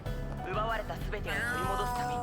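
Stray cat meowing in the video game Trails Through Daybreak 2, several drawn-out rising and falling cries, close and clear, with faint background music.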